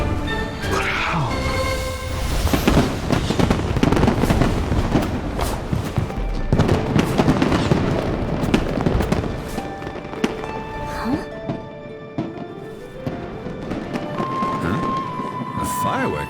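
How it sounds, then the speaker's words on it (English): Repeated booming fireworks bursts and crackles from a fireworks show in Genshin Impact, dense and loud at first, then thinning out with scattered pops and tones. "A fireworks show?"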